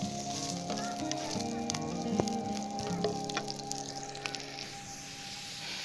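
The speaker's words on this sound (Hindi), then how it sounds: "तो अभी हम उसके अंदर काटे हुए प्याज ऐड कर देंगे और इनका रंग चेंज होने तक इनको भून लेंगे, फ्राई कर लेंगे" Chopped onions fry in hot ghee, a steady close crackling sizzle with scattered pops and small bursts, continuing evenly throughout.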